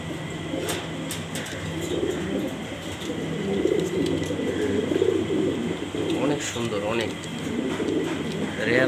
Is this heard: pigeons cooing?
yes